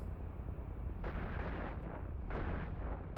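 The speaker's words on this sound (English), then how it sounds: "Launch these missiles." Missiles launching in the EVE Online space game come through as dull, booming thumps, two main bursts over a steady low rumble, faint and distant-sounding, with no talk.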